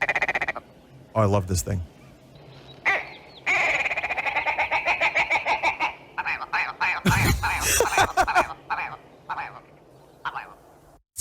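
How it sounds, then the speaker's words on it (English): Willow ptarmigan calling in a recording, a series of loud, rapid croaking, rattling bursts with a stuttering rhythm, briefly interrupted by a person speaking over it. "It's the willow ptarmigan."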